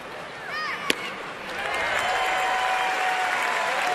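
A baseball stadium crowd at an Arizona at Washington game in 2011 breaks into a sarcastic cheer, a broad wash of cheering and scattered clapping that swells after a sharp crack and holds steady, moderately distant.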